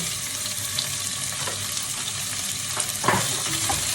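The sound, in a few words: meat frying with garlic in a pan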